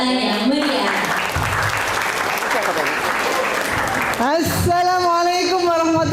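Audience applause welcoming a host at a seminar, loud and continuous clapping mixed with music and a voice over it, ending with a brief musical flourish.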